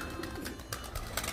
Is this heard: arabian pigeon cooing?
yes